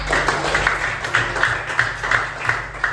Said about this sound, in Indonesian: tepuk tangan dulu buat Depan